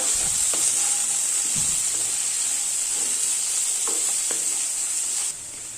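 Chopped carrot and beans stir-fry in a hot pan for vegetable thoran, a loud steady hiss with a few scraping stirs, easing slightly at the end.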